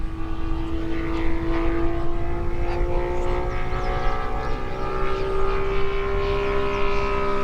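A radio-controlled 87-inch Seagull F4U Corsair model with a radial engine flies overhead, its steady propeller drone holding strong and continuous with a gently shifting pitch as it dives at full power and pulls up.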